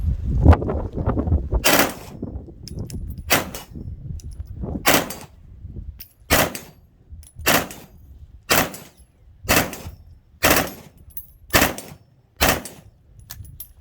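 Bursts of full-auto gunfire crack out at a shooting range, about ten sharp loud volleys in a steady rhythm, following a few seconds of low rumble and indistinct movement.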